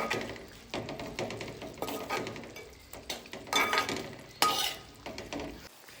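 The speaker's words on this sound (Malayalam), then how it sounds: "നന്നായിട്ടൊന്ന് ഇളക്കി കൊടുക്കുക." Chicken stew in Kerala style being stirred in a pot, with scraping and clinking of a spoon against the pan in irregular bursts, close and moderately loud, no voices.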